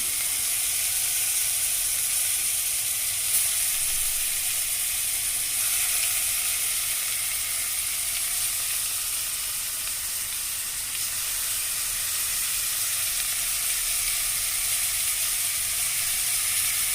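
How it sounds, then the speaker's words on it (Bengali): Marinated chicken pieces for butter chicken sizzle loudly in hot oil and butter, a dense, continuous hiss and crackle that holds steady and close for the whole stretch with no talking. "তেল বাটারটা আমরা একটা একটা করে চিকেনের পিসগুলো ম্যারিনেট করা ছেড়ে দিচ্ছি।"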